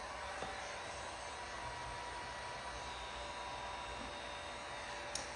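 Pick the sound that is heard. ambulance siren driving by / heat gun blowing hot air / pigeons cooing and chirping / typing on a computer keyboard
heat gun blowing hot air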